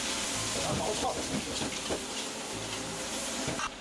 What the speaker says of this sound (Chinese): 继续用大火爆炒